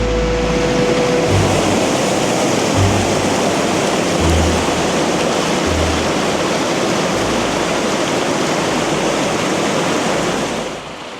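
A waterfall in a Canadian rainforest, a loud, steady, close roar of rushing water that continues unbroken.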